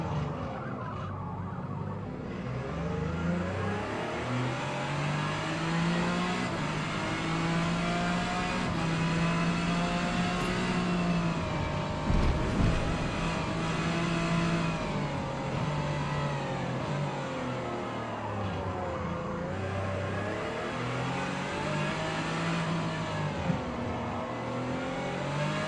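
Ford EcoBoost 3.5-litre V6 race car engine in a racing game, a loud droning exhaust note that rises and falls through gear changes and throttle shifts over a long stretch, with no talking.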